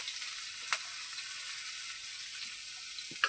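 Chopped onion sizzles in hot oil for a mustard-paste bata fish curry, a steady soft frying hiss with a couple of faint stirring clicks.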